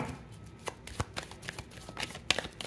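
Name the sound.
drawing a tarot card from the deck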